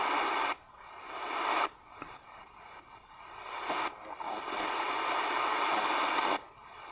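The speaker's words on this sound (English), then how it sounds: "I hear a transmission, but that was pretty weak." Hissing shortwave radio static on an ATS-20+ receiver keeps cutting in and out, with faint murky fragments of a weak transmission buried in the noise.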